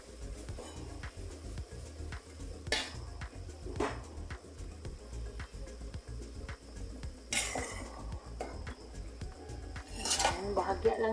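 Bitter gourd goes into a pan of cooking shrimp, with metal utensil clinks and scrapes against the pan over a low sizzle, close by, with occasional faint voice.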